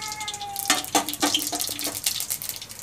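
Mustard seeds in hot oil crackle and pop with irregular sharp spits in a pan while a drumstick masala curry is being cooked, heard close with no talking.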